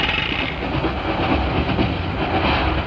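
A train sound effect from a British radio comedy pulls into a small halt station: a steady, loud rumble of rolling carriages with a clickety-clack rhythm throughout and no voices.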